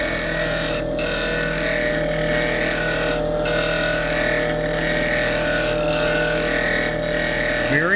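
A powered grinding wheel sharpens a scrub plane blade under very light pressure, a steady continuous motor whir and grinding hiss held at an even level throughout, close by, with no voices.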